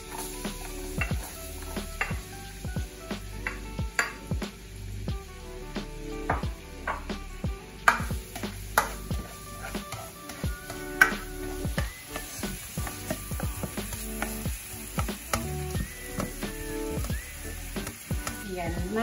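Onion and garlic sizzle steadily in a hot pan, with a utensil scraping and tapping against the pan in an irregular stirring rhythm, close and moderately loud throughout.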